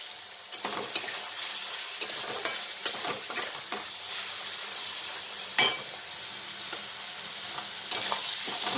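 Mixed vegetables with capsicum, beans and carrots fry in a pan, keeping up a continuous sizzle broken by scraping stirs and sharp clicks of a spatula against the pan, close and with no voices.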